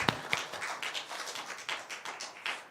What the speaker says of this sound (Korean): 같이 박수 한번 보내드리겠습니다.